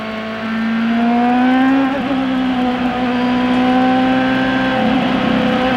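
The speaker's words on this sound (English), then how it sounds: "Getting word from some of the corners out on the racetrack that the engine sounds odd." A CART race car engine at the 1997 U.S. 500 at Michigan Speedway holds a loud, steady high-pitched drone on track, with a slight pitch dip and waver partway through as it passes.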